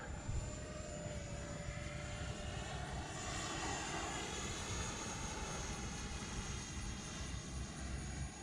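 An Arrows F-15 Eagle RC model jet, flown after repairs to its front gear mount, makes a steady, continuous engine whine and rush that holds at an even, fairly distant level for the whole stretch, with no talk.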